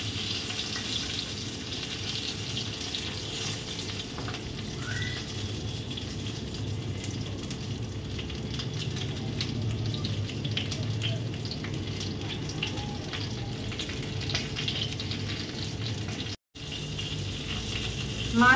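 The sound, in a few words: fish frying in mustard oil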